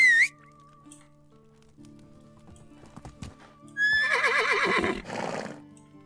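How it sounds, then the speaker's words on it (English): A horse in the video game Medieval Dynasty gives a loud, quavering whinny after a brief opening tone, ending with a soft clatter of hooves, with no talk over it. "Call the horse."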